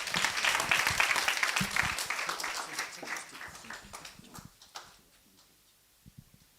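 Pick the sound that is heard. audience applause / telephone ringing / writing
audience applause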